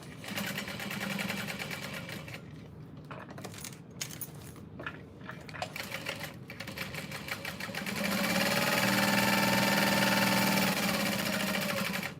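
A sewing machine top stitching a tote bag runs in close, steady mechanical bursts, with a short pause and a few clicks before a louder, sustained stretch of stitching at the end.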